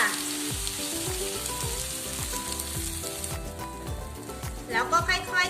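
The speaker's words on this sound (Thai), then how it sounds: "ก็ให้เรา เทส่วนผสม ที่เราปรุงเมื่อกี้ลงไปเลยจ้า" Shrimp frying hard in a pan as a curry sauce mixture is poured in, a steady loud sizzle with stirring and clinks of a utensil, rising at the end as the liquid hits the hot pan.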